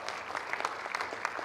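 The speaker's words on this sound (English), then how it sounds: "Let's give them a round of applause" A short burst of audience applause, steady clapping from a modest crowd at moderate volume, with no voices over it.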